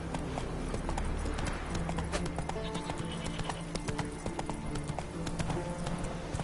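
Roach, Geralt's horse in The Witcher 3, galloping with rapid, dense hoofbeats in a fast driving rhythm, loud and close throughout with game music underneath.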